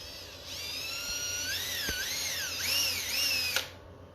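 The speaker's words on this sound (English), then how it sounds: "I'm actually going to drill them out of the hook hangers" A power drill whines steadily, clearing hardened clear-coat finish out of the hook hangers of a handmade Black Label crankbait lure, with the motor pitch rising and falling as the bit bites over about three seconds.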